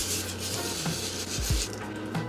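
Grated zero-waste dish soap is rubbed over two dry, dirty plates left from the night before, making a steady close scraping and rubbing noise with a few dull clinks of the plates.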